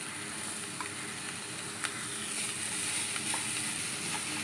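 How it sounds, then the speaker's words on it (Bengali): Fried capsicum and other vegetables sizzle softly in a pan with a faint, steady crackle and a few light clinks of stirring. "ভাজা এগুলোকে সব ঢেলে দিচ্ছি"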